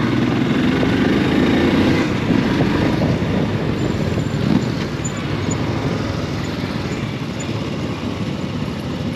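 A loud, rough rumble of about 35 motorcycle engines, including Royal Enfield Himalayans, mixes with gritty dirt-road noise in Lessinia, continuous and close.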